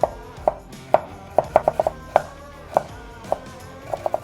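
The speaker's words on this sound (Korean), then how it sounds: "당근도 그냥 채 썰어 쓸게요." Knife strokes cutting carrot into thin strips on a cutting board, a series of sharp, close chops in an uneven rhythm, sometimes in quick bursts, with no talk.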